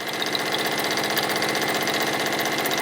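A sewing machine runs at a quick, even pace, its motor humming with a fast regular stitching rhythm heard close and steady throughout.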